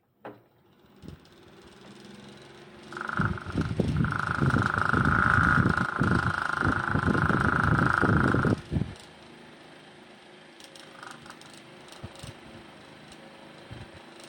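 A small homemade fan's electric motor running on a 24 W, 2 A power supply, a steady hum that lasts about five seconds and then cuts off, with a faint voice nearby.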